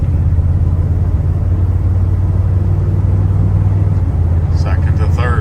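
A 1978 Ford F150 XLT pickup with a new fuel pump drives steadily, shifting from second to third gear. Its engine drones as a loud, continuous low rumble throughout, and a few faint higher tones flicker near the end.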